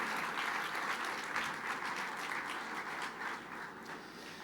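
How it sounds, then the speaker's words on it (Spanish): A church congregation applauds in praise of the Lord, a dense, steady wash of many hands clapping at once, loud and continuous throughout with no voices breaking through. "Fuerte ese aplauso de alabanza al Señor."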